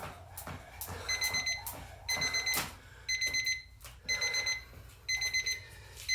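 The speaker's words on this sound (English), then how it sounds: "Beep, beep, beep, beep." An exercise timer during a jump rope PE session sounds repeated electronic beeps in groups of four, sharp and clear, cycling several times over light background movement.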